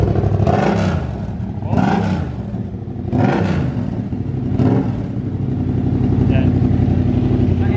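A Yamaha MT-07 motorcycle with an SC Project exhaust is revved repeatedly up close, four sharp throttle blips rising and falling over a rough idle, with brief talk in between.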